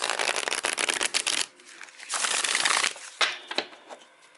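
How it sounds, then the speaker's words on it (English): Tarot cards from an old-style deck being shuffled, with rapid crisp riffling bursts separated by short pauses, close and fairly loud. "This is how it shuffles."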